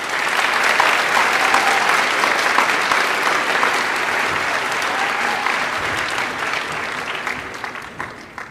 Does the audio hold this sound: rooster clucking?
no